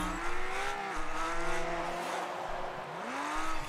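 Car engine revving in the video game Destruction AllStars, a continuous whining engine note that rises and falls in pitch with bends and swoops, heard steadily throughout and fairly loud.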